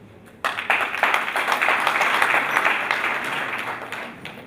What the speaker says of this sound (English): A hand of applause once again